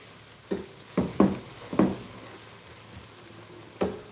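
Ginger garlic paste sautéing in a pan on the stove for chicken kabsa, heard as a low sizzle broken by several sharp stirring knocks and scrapes of the spoon against the pan.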